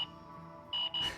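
A device in Lost Judgment gives out electronic beeps: one brief tone, then two longer steady beeps close together, loud and clear over faint background hum.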